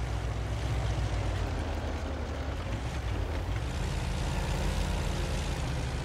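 Engine of an AMX 13 F3 AM self-propelled gun in a video game, a continuous low rumbling drone with broad wind-like noise, steady and moderately loud throughout, with no voices.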